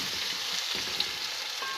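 Minced meat, garlic and onion fry in a pan with a steady, close sizzling hiss throughout, interrupted only by faint stirring.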